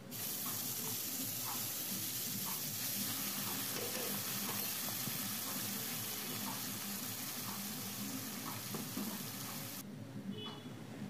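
Spice paste sizzles in a pan for a pomfret fish curry, a steady, dense frying hiss holding at even loudness throughout and cutting off abruptly near the end.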